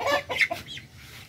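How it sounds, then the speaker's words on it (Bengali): A Golden Frizzle chicken clucks a few times in quick, close bursts, then goes quiet against a low background hum. "আমাদের আরেকটা মুরগি হচ্ছে আপনার গোল্ডেন ফ্রিজেল।"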